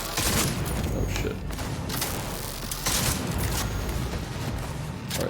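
Shotgun blasts in the video game Cyberpunk 2077, loud booming shots at uneven intervals over steady combat noise and mechanical clatter.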